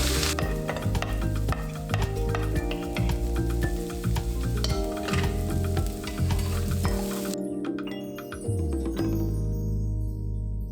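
Onions hitting hot oil in a pan for shrimp curry, a loud, steady sizzle with stirring and utensil clinks. The sizzle drops back briefly near the end, then picks up again.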